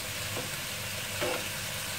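Fish sauce sizzling in a frying pan while being stirred, a steady low frying hiss with two brief scraping stirs, close and fairly quiet.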